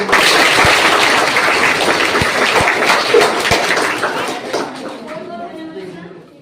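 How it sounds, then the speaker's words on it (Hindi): At an NGO event honouring girls in a talent competition, the crowd gives loud, dense applause with a few sharp claps standing out, fading gradually as chatter and a voice emerge near the end. "तो सर के लिए जोरदार एक बार तालियां"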